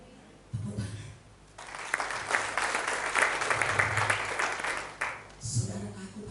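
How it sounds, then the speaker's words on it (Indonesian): Applause from a church congregation during a sermon, a broad burst of clapping that swells for several seconds after brief speech, with a voice resuming near the end. "Tepuk tangan."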